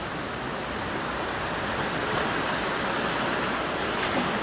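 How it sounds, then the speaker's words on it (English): Calm seawater sloshing inside the grotto dive site on Saipan, heard from the bottom of the stairs: a steady, broad wash of gentle surf and lapping water, fairly quiet and continuous with no talk. "This is the water, fairly quiet at the moment in the grotto"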